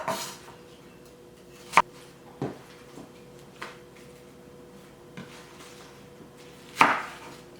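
Knife chopping vegetable stalks into rough pieces on a cutting board, a few sparse, separate sharp knocks spread out with quiet gaps between them.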